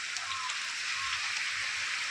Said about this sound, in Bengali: আপনারা দেখতে পাইতে কি পরিমাণ বৃষ্টি আরম্ভ হয়েছে